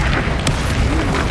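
Bombarda spell blast in the Hogwarts Legacy video game: a loud, dense low rumbling boom that fills the short moment, with a sharp crack near the middle, up close and without speech.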